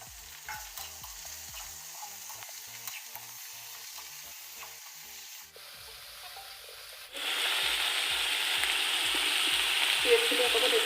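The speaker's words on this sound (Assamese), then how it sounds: "পিঁয়াজখিনি অকণমান এতিয়াই দিলোঁ।" Onions fry in oil in a kadai with a soft crackle and scraping stirs, then a much louder, continuous hissing sizzle surges up near the end.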